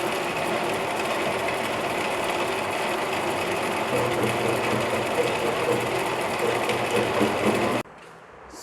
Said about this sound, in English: let us see how external thread cutting is done